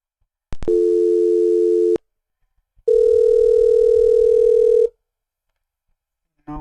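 Two long, steady electronic ringback tones of a test call to a Cisco UCCX phone system, separated by silence, loud and clean, with the start of another tone at the very end.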